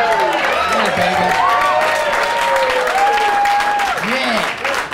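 A large live crowd applauds and cheers without pause at a Tuesday-night comedy show, dense clapping filling the room, with whoops and voices rising over it and loud throughout.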